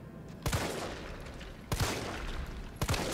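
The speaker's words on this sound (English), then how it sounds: "So I shot him 7 times on the ground" Three sharp gunshot bursts in the Resident Evil 3 Remake video game, spaced about a second apart, each a loud crack with a short booming tail over a steady low game ambience.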